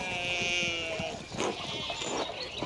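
Sheep bleat in the Pentiment game, with long harmonic calls overlapping one another. A low rustling farm ambience runs beneath them, and a fainter bleat answers near the end.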